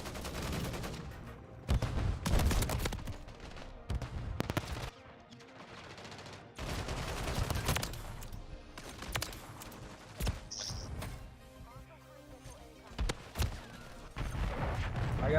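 Shotgun blasts in a Call of Duty match: several loud, sharp booms spaced irregularly, mixed with other game gunfire and effects, with no talk.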